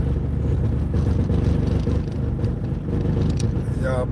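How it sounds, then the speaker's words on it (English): A car engine running rough, a steady loud low rumble with rattling and scraping throughout, heard from inside the vehicle, with a brief high whine near the end. "please forgive me for the way this car sounds"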